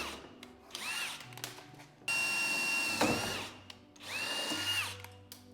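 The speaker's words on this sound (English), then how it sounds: "We're gonna drill out these clips too. We're using the same size drill bit." A power drill repeatedly bores out metal bumper clips on a Nissan 350Z, giving several loud bursts of whining spin-up with short pauses between them.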